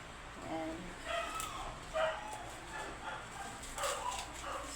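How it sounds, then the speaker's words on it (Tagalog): A dog barks and yips repeatedly at a distance, the short calls scattered over steady background noise, with some faint voices. "Ingay sa aso dito, nasa tapat."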